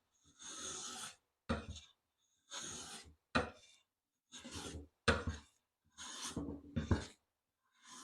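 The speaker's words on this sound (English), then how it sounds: "the plane becomes more difficult to push. That's why you want thin shavings." Hand plane with a back bevel, cutting at about 60-degree cabinet pitch, takes thin shavings from beech in a series of rasping push strokes, some long and some short, with brief pauses between them and no talking.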